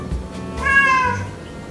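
A single drawn-out cat meow, a calm house cat's call, rising and falling briefly over faint room noise, close and moderately loud.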